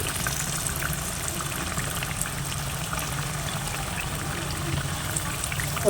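Rice flour batter poured into a hot paniyaram pan, making a steady low trickle and bubbling sizzle that continues without pause, with no talking over it.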